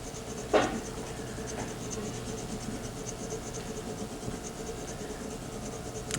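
A cabinet scraper is rubbed back and forth on a sharpening stone with a rocking motion, giving a faint, continuous gritty scratching with one brief sharper scrape near the start.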